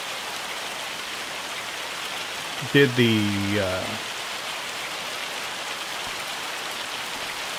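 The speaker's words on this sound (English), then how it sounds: "I just thought it was a loud rainstorm, but it turns out, yeah, it's hail again" Hail pelting a farm during a storm in the video game Farming Simulator 25, a dense, constant hiss of impacts that persists at an even level throughout, with a brief spoken voice over it.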